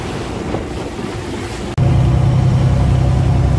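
A boat heading out to sea through moderate waves and wind gives a loud engine drone with wind noise. Halfway through, the roar jumps sharply louder and holds steady.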